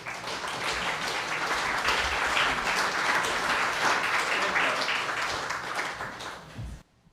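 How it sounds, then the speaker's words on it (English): A crowd at a benefit show fills the room with steady, sustained applause for several seconds. The clapping then drops away abruptly into near silence. "we are used to applauding here"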